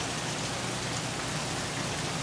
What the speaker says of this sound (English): Standing at my front door, looking at a steady rain this morning